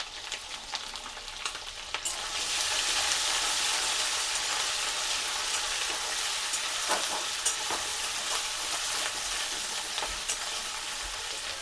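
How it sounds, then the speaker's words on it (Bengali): Grated ginger frying in a pan sizzles loudly and steadily after a quieter opening, with scattered stirring scrapes across the hiss. "আদা আমার ভাজা হয়ে গেছে"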